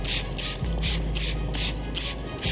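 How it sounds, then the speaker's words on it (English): Handheld spray bottle misting odor neutralizer onto a Mitsubishi Lancer Evolution IX interior after cleaning, a run of about six quick airy spritzes in a steady rhythm, close and fairly quiet, no voices. "So let's spray that on there."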